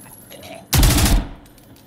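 Burst of automatic gunfire in the Zero Hour tactical shooter, a loud dense volley of rapid shots lasting about half a second, then a quieter tail and background.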